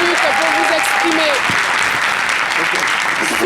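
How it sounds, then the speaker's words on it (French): Studio audience applauding a contestant on a French midday TV talent show, loud and continuous dense clapping throughout, with a host's voice speaking over the start. "Applaudissements pour lui."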